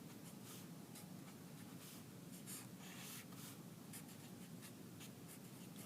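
Pen strokes scratch on paper as an equation is written out by hand, a quiet continuous run of short bursts and scrapes, close and faint with no talking.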